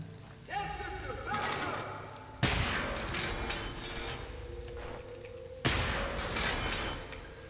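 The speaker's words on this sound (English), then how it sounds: "Oh, looks like I have to shoot them." Gunfire while shooting enemies in Wolfenstein: The New Order, two sharp, loud blasts a few seconds apart, each trailing into a ringing metallic decay, with quieter game sounds between them.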